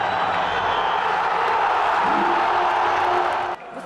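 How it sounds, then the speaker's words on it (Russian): A large football stadium crowd in Almaty roars and applauds after a goal, a dense steady wash of cheering and clapping that cuts off abruptly near the end. "На это алматинская публика ответила шквалом аплодисментов."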